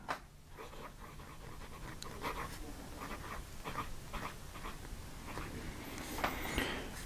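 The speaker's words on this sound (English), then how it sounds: "How does the pen write?" Wing Sung 3008 demonstrator fountain pen with a piston filler, nib scratching softly across paper in short repeated strokes, faint and close, with no talk.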